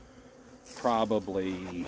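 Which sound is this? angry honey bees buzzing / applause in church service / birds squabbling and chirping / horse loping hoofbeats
angry honey bees buzzing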